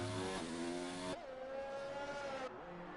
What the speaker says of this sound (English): Going really high with the revs